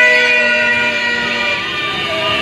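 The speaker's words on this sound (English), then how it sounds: "people honking their horns" Car horns honking in a Harare street as crowds celebrate Robert Mugabe's resignation, with sustained overlapping horn tones blaring steadily and loudly throughout, no speech.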